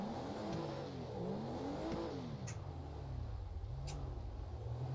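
A Lada Samara driving in GTA 5 sounds as a steady engine hum whose pitch rises and falls with throttle changes. The moderate, close engine tone holds throughout, with a couple of brief sharp clicks and no talk.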